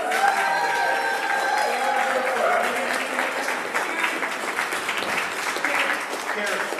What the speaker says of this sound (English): Can we get another big round of applause?